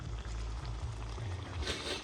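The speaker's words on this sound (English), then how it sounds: "You hear the pot a sizzle there?" Steady close sizzling and bubbling of a pot of curry beef over a wood fire, a continuous crackling hiss with a low rumbling undertone throughout.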